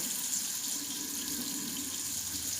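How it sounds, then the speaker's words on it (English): A bathroom tap runs steadily into a sink as water is warmed, a soft continuous splashing hiss with no talk over it. "I'm gonna run this water, let it get a little warm."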